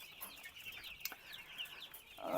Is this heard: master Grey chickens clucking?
yes